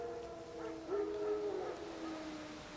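Distant, faint howling of wild dogs in The Witcher 3, a few wavering drawn-out cries rising and falling over quiet background.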